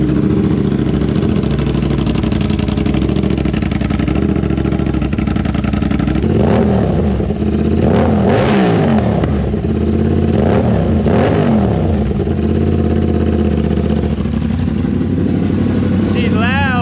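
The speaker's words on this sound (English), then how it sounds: "Full titanium system, SC Project S1. Let's go ahead and check out the cold start." An Aprilia RS660 with a full titanium SC Project S1 exhaust cold-starts and runs, a loud, steady engine drone rising in several sharp revs over about seventeen seconds, with a voice talking over it.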